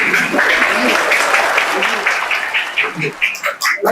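An audience at a Muslim in Business event claps loudly and steadily, the applause then thinning into scattered claps toward the end, while a voice speaks over it.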